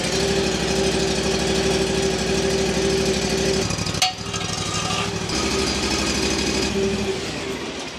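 A Land Pride ZST zero-turn mower engine runs at a steady, even idle with a rhythmic pulsing hum, a brief sharp click near the middle, and a slight fade at the end.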